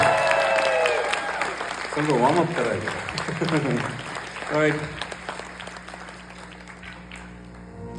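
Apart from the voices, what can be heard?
concert audience applauding loudly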